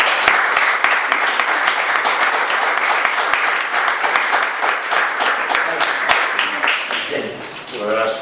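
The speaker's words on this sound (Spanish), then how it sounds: "un aplauso" An audience at a political talk and debate event gives loud, sustained applause with sharp individual claps standing out, easing off near the end as a voice begins speaking.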